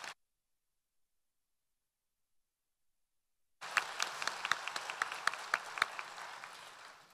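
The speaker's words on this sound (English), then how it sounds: "A round of applause for our new recipients." Near-silence for several seconds, then a small crowd at a university graduation ceremony breaks into applause for honor recipients, steady scattered claps continuing to the end.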